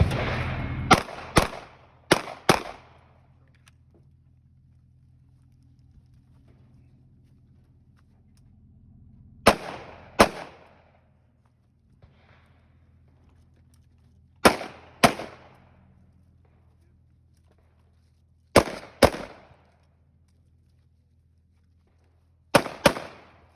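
A 300 Blackout short-barreled rifle fires at a shooting range: about eleven loud, sharp shots in quick pairs and short bursts, separated by pauses of several seconds, with no talking.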